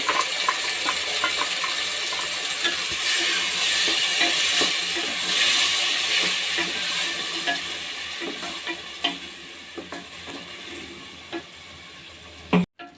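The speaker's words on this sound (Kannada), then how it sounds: "ಟೊಮೊಟೊ ಪೇಸ್ಟ್ ಹಾಕಿ ನಾನು ಒಂದು ಎರಡು ನಿಮಿಷ ಹಿಂಗೆ ಕೈ ಆಡಿಸಿ ಪೇ ಫ್ರೈ ಮಾಡ್ಕೊಂಡಿದ್ದೀನಿ" Masala with tomato paste stir-fried in a pan for soybean pulao gives a steady, close sizzle with scraping stirring strokes throughout, fading into a few sharper clinks near the end.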